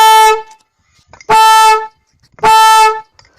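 Homemade big horn blown with an air pump, three loud blaring blasts, a short one followed by two longer ones, with silent gaps between them.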